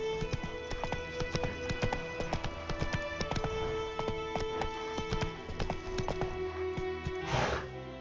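Hooves of Roach, Geralt's horse in The Witcher 3, clip-clop in a steady trotting rhythm on hard ground, close and clear, with a brief snort or whoosh near the end.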